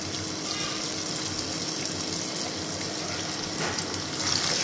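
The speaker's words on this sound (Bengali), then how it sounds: "এখন চলে যাব গরম তেলের উপর দিয়ে ভাজতে।" Pakora batter fries in hot oil with a loud, continuous close sizzle and bubbling that swells briefly near the end.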